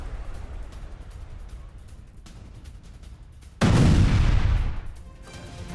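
Airstrike explosions hit Beirut during a missile and drone attack, with distant rumbling thuds and then one loud, close blast about two-thirds of the way through that rolls off over about a second.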